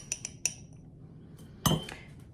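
Metal spoons clink against dishes while lemon dill seasoning is stirred into portions of shelf-stable rice, giving a few quick taps and then one louder scrape-and-clink, close and without voices.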